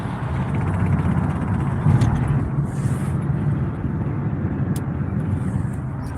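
Steady low road rumble of cars driving in traffic, heard from inside a moving vehicle on a road trip, continuous and fairly loud with no talk.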